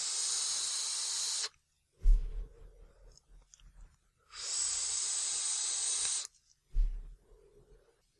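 Two long, steady vapor hisses from a Flawless Dinghy vape atomizer running at about 4 volts, each lasting over a second, separated by quiet gaps with soft exhales and mouth sounds close to the microphone.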